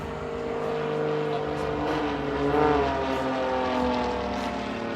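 An Extra 260 aerobatic propeller plane flies at the Leszno airshow, its engine a loud, steady droning buzz that swells slightly and bends in pitch midway as it passes.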